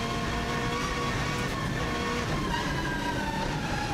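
Onboard a race car at speed on the Isle of Man TT course heading toward Ramsey, a steady engine roar with a slowly shifting pitch, fairly faint and continuous, with no speech.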